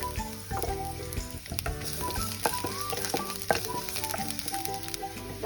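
Chopped garlic frying in hot oil over a high flame for egg fried rice, a steady close sizzle with scattered stirring clatter and tonal clinks from the pan throughout.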